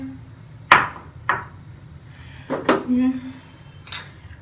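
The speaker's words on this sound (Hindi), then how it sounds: "ये कढ़ाई में चीनी डाल देंगे।" Sugar goes into a kadhai for bread burfi, marked by four or five sharp metallic clanks of a utensil against the pan, close and ringing briefly, with a softer rattle in between.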